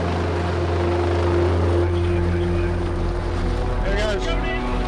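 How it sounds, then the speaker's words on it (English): A rescue helicopter hovers over a ship at sea at night, its rotor roar loud and steady throughout, with a voice breaking in briefly near the end. "We knew at this point a helicopter was coming that could easily winch him away."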